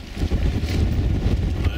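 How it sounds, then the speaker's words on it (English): Wind buffets the microphone outdoors at a practical rifle match, a continuous low rumbling roar that dominates throughout with slight gusting swells. "It's windy."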